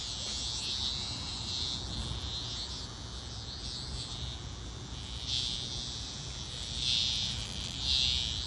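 A cicada held by a Boston Terrier puppy drones continuously in a loud, close buzz, swelling briefly a few times near the end.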